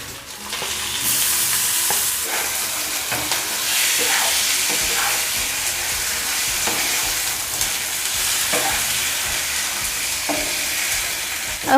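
Marinated chicken sizzles and fries in a pan with onions already cooked golden, a steady loud crackle broken by the scrape and clatter of stirring, with no talking.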